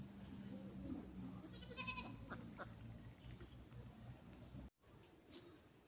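A goat at a rural homestead bleats faintly and at a distance, giving a short, wavering call over a soft, steady background hum.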